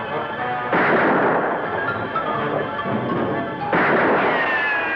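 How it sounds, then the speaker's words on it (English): Gunshots are traded in a dramatized shootout from an Annie Oakley story, with two loud, sustained blasts that boom close by and roll on across the whole stretch. "I didn't count on swapping shots with her."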